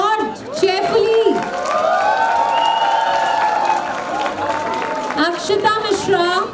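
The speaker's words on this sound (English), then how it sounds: "Can we all applaud cheerfully?" A convocation ceremony audience applauding and cheering, loud sustained clapping with whoops and crowd noise while a voice calls out over the din.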